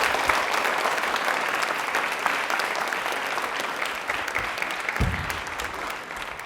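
Sustained loud applause from a large studio audience on a TV quiz show, dense clapping throughout that slowly eases.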